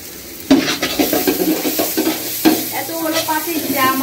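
Onions sizzling and being stirred in a large pot for biryani, a steady close frying hiss broken by sharp scrapes and clatters of a spoon against the metal, with no talking.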